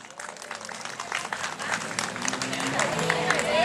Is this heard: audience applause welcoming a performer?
yes